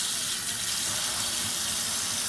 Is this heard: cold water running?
yes